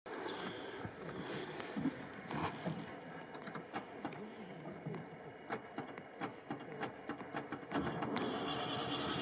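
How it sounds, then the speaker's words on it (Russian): Starter of a ZAZ-968M car cranking and the engine catching during an off-road test in a swamp, a dense, steady rumble with rapid mechanical clatter that rises louder near the end. "О, заработал стартер. Ожил."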